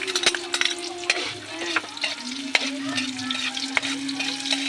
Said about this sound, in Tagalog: Kapag brown na yung bawang, susunod natin ang sibuyas.